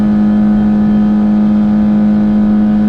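A Yamaha F115 outboard on an 18-foot Bayliner Trophy boat held at high revs near its limiter, a loud, steady droning whine with a strong constant pitch and no variation, close and alone.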